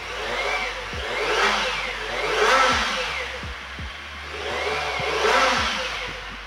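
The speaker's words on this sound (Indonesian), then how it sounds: "Coba saya tarik tuas gasnya." A 2023 Kawasaki Ninja ZX-25R engine at close range, its throttle opened in three swelling revs that rise and fall over a steady idle, loud and alone without talking.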